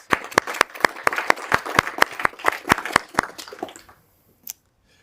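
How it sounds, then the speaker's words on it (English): A small audience claps for participants in a debugging experiment presentation, about fifteen sharp, evenly spaced claps that thin out and stop, followed by a brief pause and one faint final clap. "I'd like you to give them a round of applause, please."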